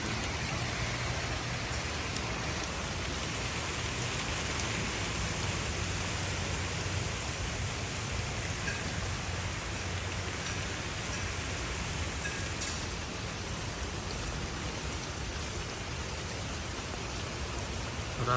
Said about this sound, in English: হঠাৎ বৃষ্টি, lots of rain.